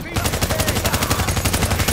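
Loud, rapid bursts of automatic gunfire in the video game Tom Clancy's The Division rattle in a steady, relentless rhythm, close and continuous throughout.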